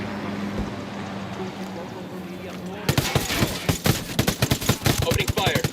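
Machine gun fire in Ghost Recon: Wildlands, a sudden burst of rapid, loud close-range shots after a rumbling vehicle-like drone, continuing as a rattling stream of gunfire.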